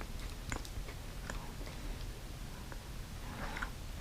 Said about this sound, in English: Let me go ahead and taste it.